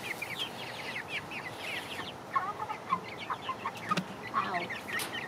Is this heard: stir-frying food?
no